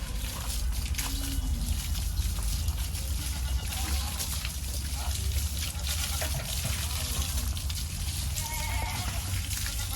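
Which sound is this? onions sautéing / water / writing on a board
water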